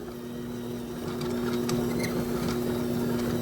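Electric mixer beaters whir steadily through a creamy cannabutter buckeye filling, a constant motor hum with a few light scraping ticks, close and alone.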